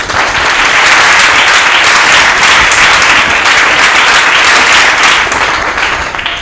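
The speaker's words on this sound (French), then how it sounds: "Nous demandons encore au public de pouvoir applaudir très fort." Loud, sustained applause from a crowd at a televised French-language event, dense and continuous throughout before tapering slightly at the end.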